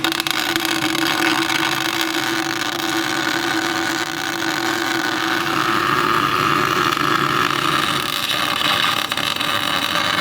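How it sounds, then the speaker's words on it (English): Continuous arc welding on a Nissan 350z differential, a steady loud crackling buzz with a constant hum underneath, running without a break from start to finish. "I'm gonna weld big right here, right there, right here, and right there, and all the 4 corners"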